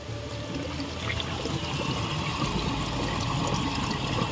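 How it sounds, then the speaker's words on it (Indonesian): Spring water pours at a waterfall with a continuous, loud, close rushing and splashing wash that stays steady throughout with no talk. "Ini sumber mata air yang tidak ada habisnya juga."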